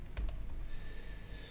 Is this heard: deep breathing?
no